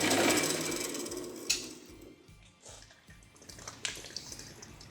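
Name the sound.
band saw slowly cutting metal stock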